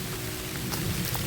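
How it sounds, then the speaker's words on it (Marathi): Rain falling as a steady, even hiss of drops with no distinct individual hits, fairly faint and brief; no voices. "आता वाटतं इथून पुन्हा पाऊस कंटिन्यू चालू होईल"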